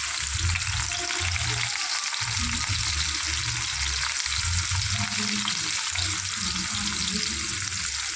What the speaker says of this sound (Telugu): నూనె కాగిన తర్వాత ఉల్లిగడ్డ, పచ్చిమిర్చి వేసుకొని తోలుచుకోవాలి